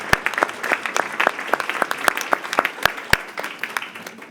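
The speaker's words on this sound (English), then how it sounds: "If you would give them a round of applause for hosting." A small audience at a labor summit in a Teamster hall claps for the hosts, a sparse, uneven round of distinct close handclaps without voices.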